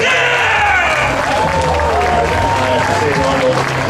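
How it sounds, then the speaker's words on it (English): Crowd applause and cheering at a mas-wrestling world championship in Columbus, USA, a steady loud wash of clapping from a large indoor audience, with commentators talking over it throughout. "Round of applause for our bonus."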